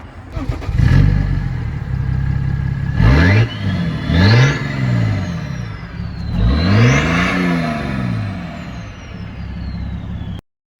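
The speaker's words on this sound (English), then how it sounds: "Give it a rev. Start her up." A BMW 335d diesel engine revs repeatedly, its pitch sweeping up and falling back several times, loud and close, before cutting off abruptly at the end.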